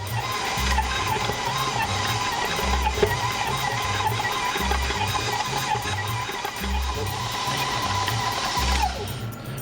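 A stand mixer fitted with a paddle beats stiff noodle dough for hand-pulled noodles on speed 4, a steady motor whine with a rhythmic low thumping as the dough slaps around the bowl, running on without talk before winding down near the end.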